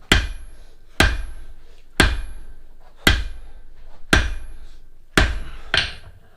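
Blacksmith's hammer striking hot steel from sucker rod on an anvil while forging punches and chisels, six heavy ringing blows at a slow, steady pace of about one per second, each ringing on briefly, with a quick extra tap near the end.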